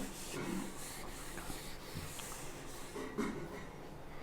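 A board is rubbed clean with an eraser during a maths lesson, giving a few close, rough scrubbing strokes in irregular bursts, with no talking.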